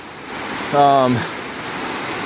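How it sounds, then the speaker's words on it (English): Bartram Falls, a 50-foot waterfall on a steep, narrow creek in North Carolina's Nantahala National Forest, gives a steady broadband rush heard from a trailside viewpoint, with someone speaking briefly over it. "This is Bartram Falls."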